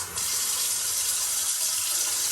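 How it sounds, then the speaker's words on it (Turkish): A household tap turned on and running: a steady, close, hissing gush of water that starts abruptly and continues evenly, with no talking. "bakın şimdi su açıyorum"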